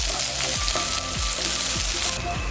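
Garlic and onion fry in a pan for a Filipino ginataang kalabasa, with a close, steady sizzle and crackle and faint stirring scrapes throughout.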